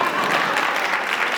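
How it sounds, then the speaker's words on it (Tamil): A seated audience at a health talk claps steadily, a dense wash of many hands at fairly close range that holds even and unbroken for the whole short stretch, with no voices over it. "ரொம்ப அருமையாக மெதுவாக கைத்தட்டாங்க."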